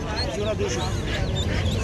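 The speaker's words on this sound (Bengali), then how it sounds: "দেশি হাঁস না?" Native desi ducks quacking at a busy village animal market in Bangladesh, a few short quacks close by under steady crowd chatter and people talking nearby.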